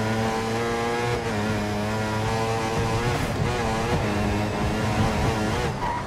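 Formula One car engines in the racing video game F1 2014 drone and whine with shifting revs through gear changes, a loud continuous engine note with no talking.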